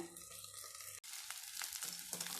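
Okra sautéing in a covered pan on low heat for vendaikai mandi, a faint soft sizzle with a brief sharp break partway through, followed by light crackling and a few small stirring clicks.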